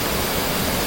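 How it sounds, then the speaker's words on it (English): A well-maintained outdoor water fountain splashes steadily, a constant, close and fairly loud hiss of falling water with no voices. "water fountain can be so much joy for the people who see"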